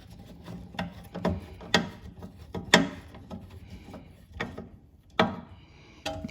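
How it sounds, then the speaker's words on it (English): A part is screwed back on a Toyota Tacoma near the front spoiler, with close, irregular ratcheting clicks and small mechanical knocks spaced across the moment. "Screw this back on."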